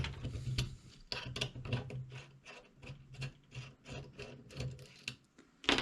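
Screws on an FX Dynamic air rifle being loosened with a tool, giving close, repeated short scraping and ratcheting rasps in an uneven rhythm with no talk.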